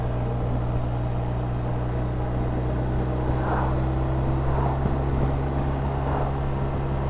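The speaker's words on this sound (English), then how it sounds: "The bike behaves so well at low revs." A BMW R1250RT motorcycle rumbles along at low revs, a steady, smooth low engine drone with constant wind and road noise and no sharp changes in pace.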